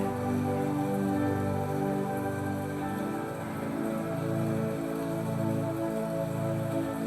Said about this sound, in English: as the music of the rain lulls you into a deep rest